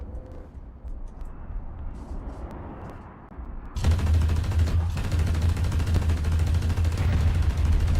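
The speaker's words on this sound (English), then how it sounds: "Machine gun ready for action!" A tank's machine gun in War Thunder opens up in a loud, sustained burst of rapid fire with a heavy low rumble beneath it, cutting in sharply after a quieter stretch of engine and ambient noise.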